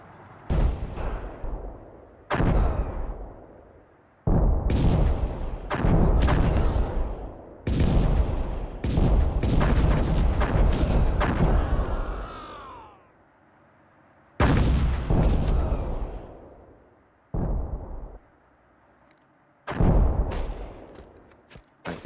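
Tank cannon fire in the Panzer Strike video game: a series of heavy, loud booming blasts with deep rumbling tails, repeated at irregular intervals of a second or two, with a few brief quiet gaps between volleys.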